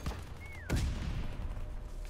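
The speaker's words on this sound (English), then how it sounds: "Some kind of firing going on over here" Gunfire in Call of Duty WWII: a sharp shot with a whistling sweep, then a sustained rumbling burst of distant firing that carries on steadily to the end.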